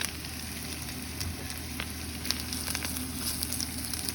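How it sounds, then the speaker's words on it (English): Onion pieces spread in a hot pan for lomo saltado, frying with a soft, even sizzle and scattered pops and light scrapes of stirring, close and fairly quiet. "And cook the onion for 5 minutes here until it softens up a little bit."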